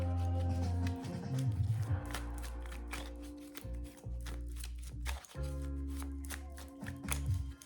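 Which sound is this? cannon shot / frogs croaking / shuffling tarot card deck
shuffling tarot card deck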